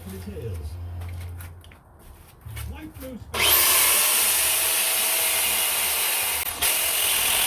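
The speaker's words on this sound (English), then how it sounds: "I might have to change angle grinders because this one doesn't seem to be working like upside down" Angle grinder cutting metal during a supermoto motorcycle build: a loud, steady high-pitched grinding whine starts partway through after a stretch of quieter handling noises, with a brief dip before it resumes.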